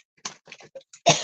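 A cough from someone recovering from a cold, doing a paper-crafting demonstration; several short bursts end in one louder, fuller cough, close to the microphone.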